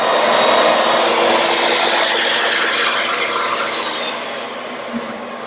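Wooden bowl blank spinning on a woodturning lathe as a tool cuts from the center outward, a loud, steady broadband whirring scrape that holds for several seconds before easing slightly in level.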